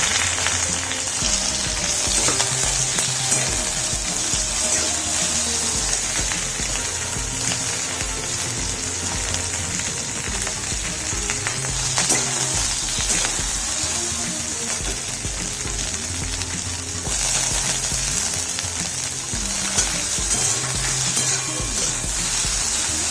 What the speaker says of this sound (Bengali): জাস্ট হালকা অলিভ অয়েলে সর্টে করে নেবো।